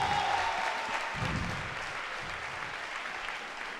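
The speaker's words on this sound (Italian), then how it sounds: "Facciamo un grande applauso" Audience applause for fighter Federico at an MMA event, a steady wash of clapping that gradually fades over a few seconds, with faint voices under it.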